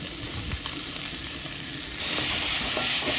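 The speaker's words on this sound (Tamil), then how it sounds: "எண்ணெய் காஞ்சிருச்சு, கடுகு போட்டு இஞ்சி பூண்டு." Mustard seeds crackle and sizzle in hot oil for a chicken gravy, with ginger and garlic added, a dense hissing spatter that grows louder partway through, with occasional stirring sounds.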